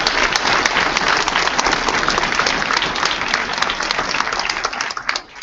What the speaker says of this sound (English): Can we give Erica another round of applause, please?